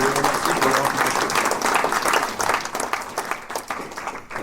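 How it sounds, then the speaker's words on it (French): An audience at a New Year's address in Belfort breaks into applause, a loud, full roomful of clapping that carries on steadily and close, with a voice faintly present underneath. "je crois qu'on peut les applaudir tous"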